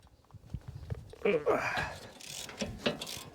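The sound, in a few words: electric ratchet removing wheel bearing bolts on Audi Q5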